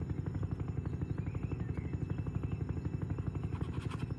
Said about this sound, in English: Let's grab the army helicopter.